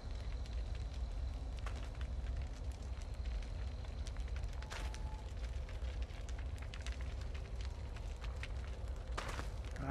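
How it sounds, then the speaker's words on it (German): A fire crackling in a dim underground space in the horror video game Outlast 2, a faint continuous rushing hiss dotted with small irregular pops and snaps, steady and low in level with no voices. "das Feuer brennt noch nicht lange."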